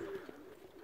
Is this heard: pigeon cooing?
yes